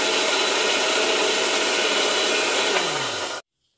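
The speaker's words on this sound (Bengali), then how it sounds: "মিক্সিতে মশলাটা পেস্ট করে নিচ্ছি।" A mixer grinder whirs continuously while blending a spice paste with chilli, a loud steady close motor roar with a slight pitch drop before it stops abruptly.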